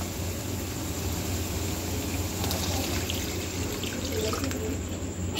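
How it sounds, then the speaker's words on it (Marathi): Water pouring into a pan of spice tempering for savory vermicelli, a steady close splashing stream that runs continuously at a soft level. "आता याच्यामध्ये आपण पाणी घालून घेणार आहे"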